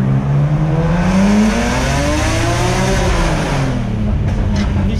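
The 360-horsepower engine of a BMW M3 E46 revs hard and rises in pitch, then falls away, its loud roar echoing inside a tunnel.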